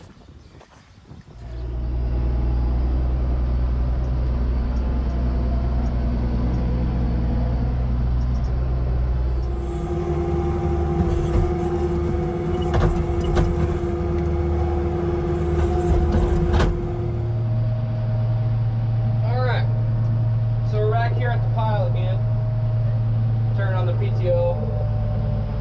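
Tractor pulling a manure spreader back and forth across a small corner of a field, a loud steady engine drone that shifts pitch partway through, with faint mechanical clatter and a few short chirps late on.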